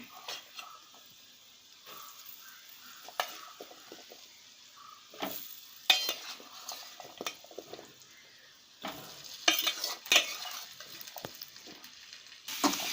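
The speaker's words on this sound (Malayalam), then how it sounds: "നമുക്കിനി ഇതിലേക്ക് നമ്മുടെ നാരങ്ങ ചേർത്ത് കൊടുക്കാം." Lemon pieces are stirred into chili powder fried in oil for a lemon pickle, giving intermittent scraping and sizzling bursts of varying loudness, close by with no talking.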